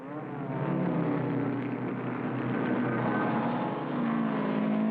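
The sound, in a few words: racing cars of the car acrobatic team driving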